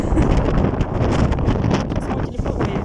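Strong gusty wind roars and buffets the microphone outdoors on a hot day, a loud, continuous broadband rush with no break through the whole moment.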